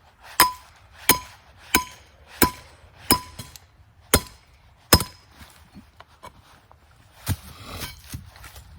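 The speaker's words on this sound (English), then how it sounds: "I'm gonna swing this hammer a little bit weird" Sharp metallic hammer strikes ring out one after another as a trap anchor is hammered in, about seven evenly spaced blows, then a few lighter taps and scuffs.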